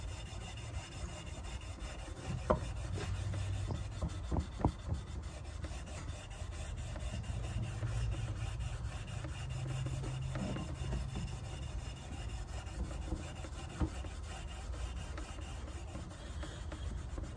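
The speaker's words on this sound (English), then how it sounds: "we're just gonna vigorously rub the shaft in order to get everything off of it" Steel wool scrubbed vigorously along a wooden hammer shaft to strip its varnish, a steady close-up rasping rub that runs on with a few sharper scuffs and knocks.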